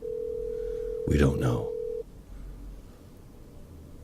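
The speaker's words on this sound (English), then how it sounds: "There's ringing. It's a good sign when it rings." A single ring tone sounds on an outgoing phone call, one steady tone lasting about a second. A voice speaks over the middle of the ring, and quiet line noise follows.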